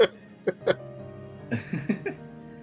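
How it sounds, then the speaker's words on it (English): Several short, sharp coughs come in quick bursts, close up, followed by a few more throaty coughs or throat-clearing sounds. "You're hitting your mic, you're bumping your table, you're coughing."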